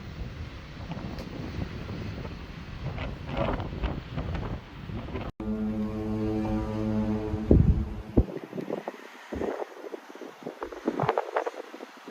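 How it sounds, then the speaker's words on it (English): A cruise ship's deep foghorn blows one long, steady blast in thick fog over wind and water noise off the Pacific coast, then fades as the wind continues. "Every so often they sound the horn to let other vessels know that"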